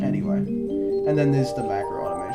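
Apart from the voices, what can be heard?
No everyday noises stand out.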